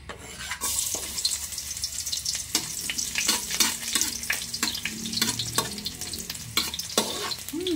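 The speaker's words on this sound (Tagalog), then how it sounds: "mag-gisa tayo ng canton. Unahin natin ang bawang." Garlic sautéing in a pan as the first step of pancit canton, a steady close sizzle with stirring scrapes and clatter running continuously throughout.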